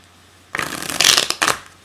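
A brisk riffle of stiff, flexible tarot cards being shuffled, two quick bursts of crisp flapping close by, with no talking.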